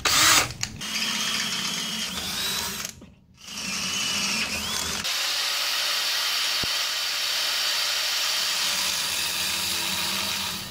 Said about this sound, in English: get my pilot holes drilled, then we'll step up to a larger size